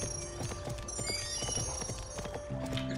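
A horse in the Barbie Wild Horse Rescue video game walks along a hidden trail, its hooves clip-clopping in a steady, even rhythm over a backdrop of game music.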